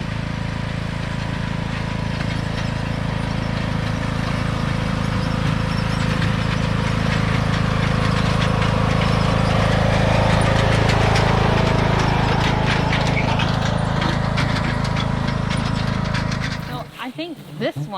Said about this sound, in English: So here's Anita coming in the lawn tractor.